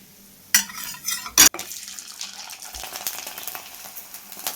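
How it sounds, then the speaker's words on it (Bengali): Sago papads are fried in hot oil, making loud crackling pops in two sharp bursts, then a softer, busy sizzle with scraping of the utensil against the pan. "সাবুর পাঁপড়গুলো পড়ে আছে এগুলো ভেজে নিচ্ছি চটাস চটাস ফাটবে"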